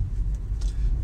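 A Toyota Yaris being driven, its low engine and road rumble heard from inside the cabin, steady with slight swells over a brief moment.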